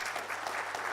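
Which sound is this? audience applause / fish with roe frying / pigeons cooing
audience applause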